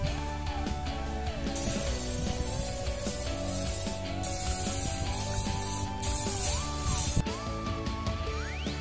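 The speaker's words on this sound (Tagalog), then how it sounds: "Sa samahan niyo ako mag-spray." Sprayer applying insecticide against whiteflies and leaf miners on a young crop about twelve days after planting, giving a steady continuous hiss that runs close and unbroken for the whole stretch alongside a droning motor.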